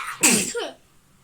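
One person sneezes close by, a sharp loud burst followed by a short breathy tail, then quiet.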